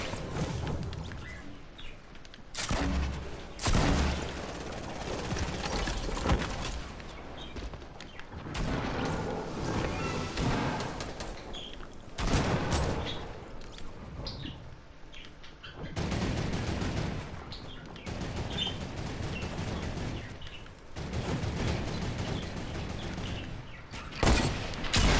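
Fortnite gunfire: repeated loud bursts of rapid shots and volleys in clusters with short quieter gaps between, close and dominant over a faint background.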